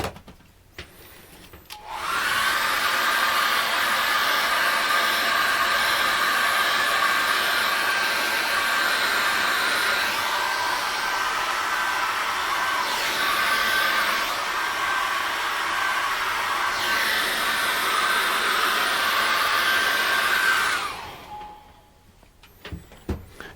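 A hair dryer blows steadily to dry acrylic paint on a waterfall painting, starting abruptly, running loud and continuous for about twenty seconds, then cutting off.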